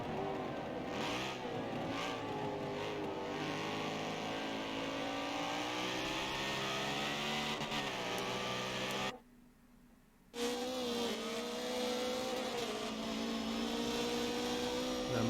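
Race cars roar through a Forza video game race with an Audi leading, a continuous loud engine drone with shifting revs and pitch, cut by a sudden brief silence near the end before the racing engines return.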